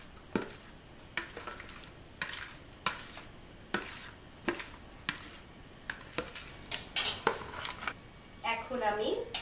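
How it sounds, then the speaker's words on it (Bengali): Yogurt and spice mixture being stirred in a pot, with repeated sharp clinks and scrapes of a metal spoon against the pot at a steady rhythm, close and moderately loud, with a soft sizzle near the end. "ভালো করে সমস্ত টক দই মশলাটা হাঁড়িতে ঢেলে দিতে হবে।"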